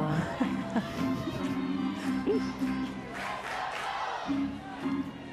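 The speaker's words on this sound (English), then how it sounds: "You always love the crowd noise." Crowd noise at a college softball game, Florida State against UCF in NCAA play: a steady roar of fans with rising and falling cheers and voices, broad and continuous throughout.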